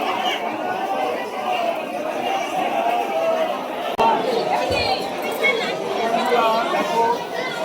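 A large crowd chatters steadily at Tarakeswar temple during the Shravan Monday pilgrimage, with many overlapping voices close by forming a continuous hubbub and a brief knock partway through.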